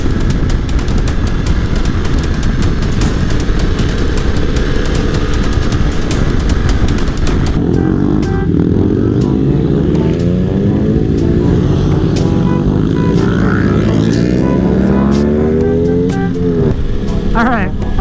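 A motorcycle ridden during engine break-in gives a steady engine drone mixed with wind rush, its pitch sweeping up and down as revs change, while a voice talks over it.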